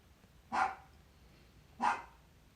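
Frances, a small dog of about ten or eleven pounds, gives two loud, sharp barks about a second apart against a quiet background, with no talking.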